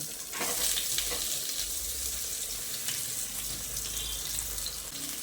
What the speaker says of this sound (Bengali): এবার আমি নুন হলুদ লঙ্কা ও বেসন মাখানো বেগুনগুলো এই তেলের মধ্যে দিয়ে দিচ্ছি